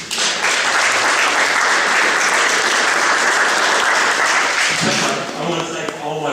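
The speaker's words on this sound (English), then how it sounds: "do we have a round of applause?" A crowd at a local candidates' event applauds first responders with dense, sustained clapping at high level for about five seconds, then it fades as a voice begins.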